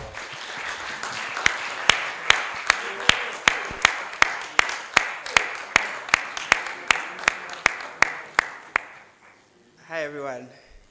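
At a business summit training workshop, audience members give a round of applause, heard as sparse, evenly spaced loud claps ringing out one after another for about nine seconds before a voice starts talking.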